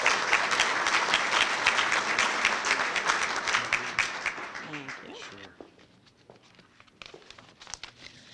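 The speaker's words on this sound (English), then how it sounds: "please give a big round of applause" An audience at a high school football banquet breaks into loud, dense applause that holds steady for several seconds, then thins out and fades to scattered claps and room noise.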